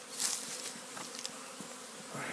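Bees at an apiary give off a steady, dense humming drone, with individual insects buzzing close by now and then over the continuous background hum.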